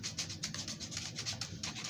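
Sandpaper of 80 grit rubbing over a wooden Alpine St Nicholas carving, a steady close scratchy hiss that pulses in quick back-and-forth strokes, several per second, with no talking.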